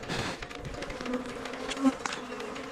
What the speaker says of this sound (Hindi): यह तेज गुंजन की आवाज हजारों मधुमक्खियों से आ रही है।